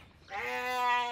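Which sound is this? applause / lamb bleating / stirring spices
lamb bleating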